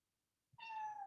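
A kitten lets out one short, clear meow after a moment of near silence, a faint high tonal cry that rises quickly and holds briefly, heard alone.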